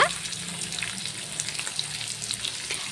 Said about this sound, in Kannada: ಆ ಈರುಳ್ಳಿನ ಹಾಕ್ಕೊಂಡು ಸ್ವಲ್ಪ ಕೆಂಪಣ್ಣ ಬರೋವರೆಗೂ ಫ್ರೈ ಮಾಡೋಣ